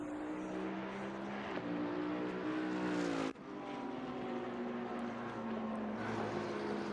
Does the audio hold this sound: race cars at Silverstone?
yes